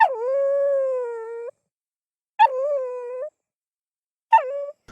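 A dog howls alone in three drawn-out, wailing calls separated by silence: one long howl, then two shorter ones, clear and close.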